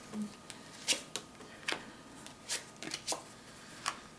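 Tarot cards shuffled and pulled from a deck, heard as a quiet string of sharp papery flicks and snaps, about eight short bursts spread unevenly, close and alone.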